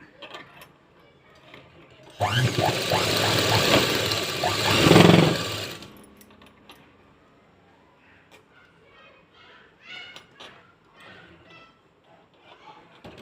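A sewing machine runs a single steady stitching burst of about four seconds while a blouse is sewn, loud and close. Someone talks quietly before and after the machine stops.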